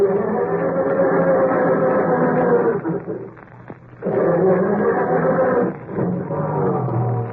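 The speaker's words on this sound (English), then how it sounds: "how does your motor sound when you try to start it on these frosty mornings?" A car engine turns over slowly on a frosty morning with a heavy, grinding crank, pausing twice in the middle before the labored churning resumes, never catching.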